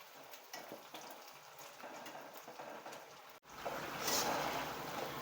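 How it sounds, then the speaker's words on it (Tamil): Ring murukku dough crackles and sizzles as it fries in hot oil, a steady bubbling fizz that swells louder after a brief drop partway through, close by and without talk. "எண்ணெயில் அள்ளி கடகடன்னு போட்டு விட்டுடலாம்"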